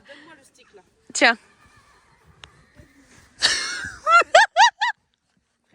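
A tense horse whinnies repeatedly, a long neigh followed by a series of short rising calls, loud and close, with people talking nearby.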